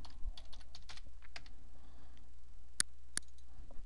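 Scattered keystrokes on a computer keyboard as a level name is entered, a few quick taps early on and a couple of sharper clicks later, close and fairly quiet with no talking.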